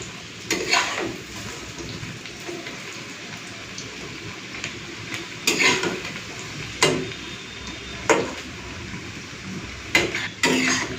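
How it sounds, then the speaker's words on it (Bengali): Lentil fritters frying in hot oil: a steady crackling sizzle, with several sharper bursts of clatter or splashes at irregular intervals. "এক পিঠ ভাজা হয়ে গেছে, আমি এখন উল্টে দিচ্ছি"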